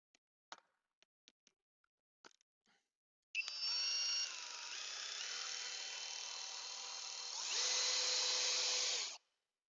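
A power drill drives a hex key. A few sharp clicks and taps come first, then the drill spins up with a steady whine for several seconds, its pitch rising toward the end before it stops. It is close and alone, with no talking.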